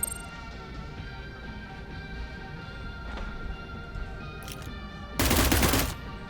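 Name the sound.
weapon firing in video game Cyber Knights Flashpoint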